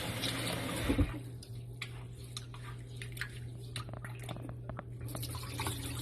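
Rice being washed in water gives faint sloshing and scattered drips over a low steady hum, with a louder splash near the start.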